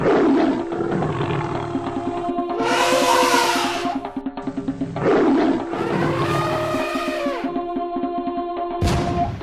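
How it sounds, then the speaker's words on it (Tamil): A tiger roars loudly and close as it enters a village, two long drawn-out roars with breathy growling between them and a sharp sound at the end. "திடீரென ஒரு புலி ஊருக்குள்ள புகுந்து விவசாயியோட ஆட்டை கடிக்க பார்த்துச்சு."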